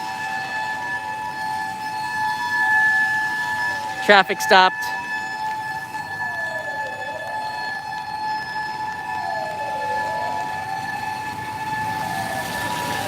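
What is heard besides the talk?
ambulance siren passing in rainy Tokyo street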